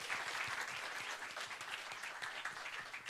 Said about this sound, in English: Can we have a big round of applause for all our panelists?